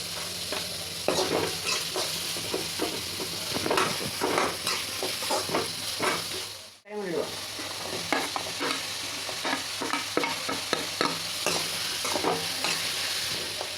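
Green chillies and onion with salt frying in a pan for a sago breakfast dish, a steady close sizzle broken by repeated stirring scrapes, with a brief dip in the middle.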